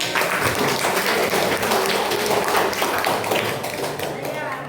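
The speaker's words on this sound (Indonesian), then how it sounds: "Tepuk tangan." A classroom of students claps together during an eleventh-grade history lesson, a dense burst of hand claps under a loud, overlapping murmur of voices that carries on without a break.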